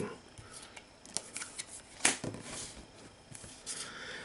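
Playing cards shuffled by hand during a Pathfinder Skull and Shackles tabletop card game make a run of quick, soft riffling flicks, close up and quiet.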